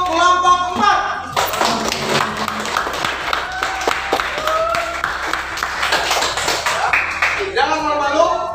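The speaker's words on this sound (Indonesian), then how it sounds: "tepuk tangan untuk kelompok 4" A classroom of children claps for a group in a short burst of scattered, close applause mixed with taps and thumps, with voices talking before and after.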